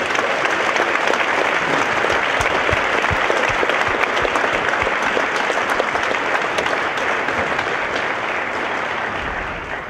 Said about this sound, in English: Would you give them one more round of applause?